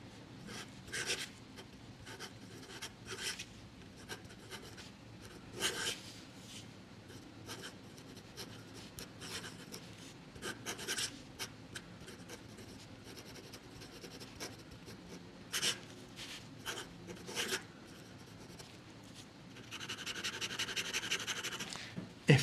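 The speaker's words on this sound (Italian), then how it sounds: "lo sto provando su una carta un pochettino ruvida, sentite, vi faccio sentire proprio lo sfregamento." A Pilot 78G fountain pen nib scratching across slightly rough paper, a close, soft rasping of strokes in irregular bursts, growing denser toward the end, with no voices.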